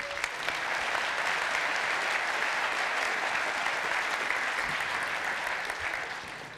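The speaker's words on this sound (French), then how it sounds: "on peut vraiment applaudir l'équipe d'organisation" An audience at a digital futures conference applauds the organising team, a dense, even wash of many clapping hands held at steady volume before tapering slightly at the end.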